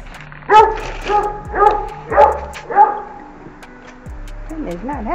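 A dog barks four times in a loud, close, evenly spaced series at a doorstep during a delivery, followed by a brief whimpering whine, with low engine hum beneath.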